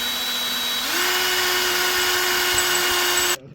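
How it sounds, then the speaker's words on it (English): A power drill runs steadily for about three seconds while drilling into a used Jeep part, its motor whine shifting slightly in pitch as it bites, then cutting off abruptly; close and loud, with no talk. "We're gonna drill"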